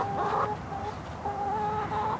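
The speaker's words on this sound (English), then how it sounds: "let's give you a quick look at the chickens." Several chickens clucking and murmuring close by in repeated low, warbling calls, fairly quiet against a soft background hum.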